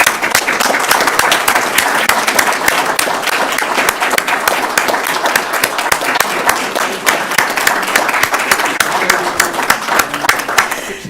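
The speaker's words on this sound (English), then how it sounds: "give this gentleman a nice round of applause" A school district superintendent's citation program audience breaks into loud, sustained applause, dense rapid clapping from many hands filling a hall for over ten seconds, with cheers and voices mixed in.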